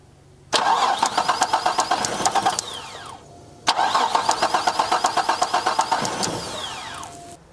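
An HZ car's engine cranks without firing during a coil pack spark test, in two separate bursts of rapid, rhythmic starter whirring, each lasting about three seconds, heard up close and loud with no talk.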